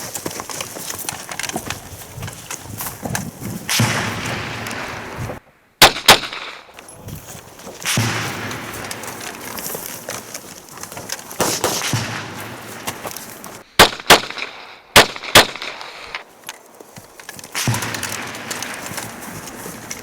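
Sharp pistol shots fired during a shooting competition stage, a few isolated cracks and a quick cluster of three to four reports, with quieter outdoor background noise between them.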